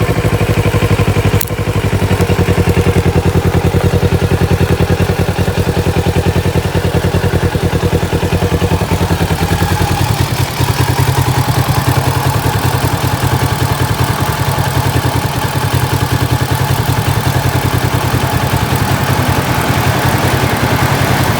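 A 2022 Kawasaki Z650RS motorcycle engine idles steadily and loudly up close while warming up, a continuous rumbling clatter that holds an even pace throughout.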